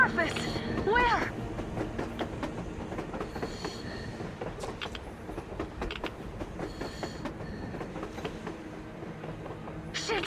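A train rolls across the surface in Metro Exodus, its wheels clattering and squealing in rhythmic clicks and metallic screeches, mixed with voices talking over the rumble.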